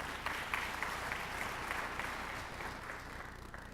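An audience at a community Martin Luther King Jr. celebration applauds high school students, giving steady, dense clapping from a crowd heard from some distance and fairly faint throughout.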